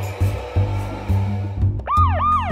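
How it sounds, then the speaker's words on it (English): A kids' app game police car siren wails, rising and falling in looping electronic sweeps that come in near the end over a thumping, bouncy game music bed. "We've got the siren,"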